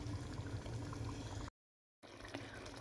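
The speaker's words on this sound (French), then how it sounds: "Je vais recouvrir et laisser le tout cuire ensemble." Egusi sauce with smoked mackerel and smoked shrimp simmering under a lid, a steady low bubbling and hiss that cuts out briefly midway and then resumes at the same gentle, quiet level.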